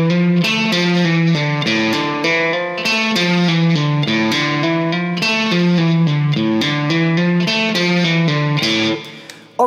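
A distorted electric guitar plays a quick repeating melodic line full of pull-offs, the notes running in a steady rhythmic pattern, loud and close, until it cuts off abruptly at the end.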